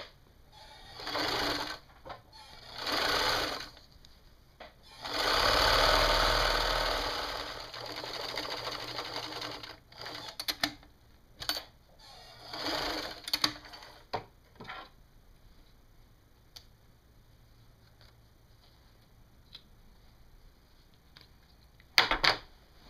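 A sewing machine topstitches across the top opening of a wraparound skirt's waistband, running in several loud sustained bursts separated by short pauses, with faint ticks and handling noises in between.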